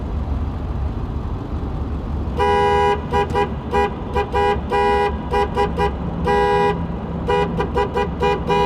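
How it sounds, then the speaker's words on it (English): Car horns blare inside a road tunnel, a string of repeated honks in uneven bursts, some long and some short, loud and echoing over the steady rumble of traffic. "There are literally people honking in that tunnel every single time."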